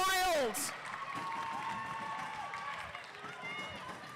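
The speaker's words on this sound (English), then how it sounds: "that crowd is going absolutely mad for that" A roller derby crowd at an England versus Wales game cheers wildly amid clapping and shouts. A loud whistle-like tone opens the sound, and an announcer talks over the noise.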